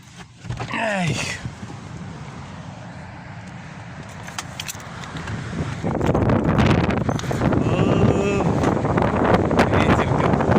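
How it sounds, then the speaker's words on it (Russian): Strong seaside wind roars and buffets the microphone in a continuous rushing blast that grows louder toward the end, with a voice briefly heard over it. "Ветер какой, ой-ой-ой, ой-ой-ой, какой ветер"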